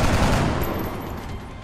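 Burst of video game gunfire in XCOM: Enemy Unknown, a dense rattling volley that runs loud and steady for over a second with no talk over it.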